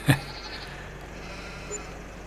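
A single short sheep bleat from milking sheep in Farming Simulator 22, loud and close at the very start, followed by quiet game ambience with a faint second call near the end.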